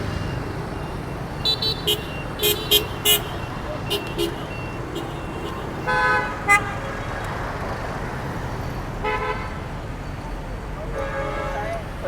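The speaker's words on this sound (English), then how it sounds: "This is where we cross over, so we just wait for the traffic to die down here" Road traffic passes at a night crosswalk in Japan with short car horn toots in brief bursts, over a steady traffic hum while people talk.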